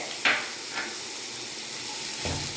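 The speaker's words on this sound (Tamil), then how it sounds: "வெஜிடபிள்ஸ் நல்லா வதங்கட்டும்" Vegetables sautéing in a pan for white pulao, a steady soft sizzle with a couple of brief utensil knocks.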